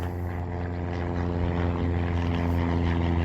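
A small propeller airplane comes in to land, its steady droning engine and propeller hum loud and continuous throughout, with no talking.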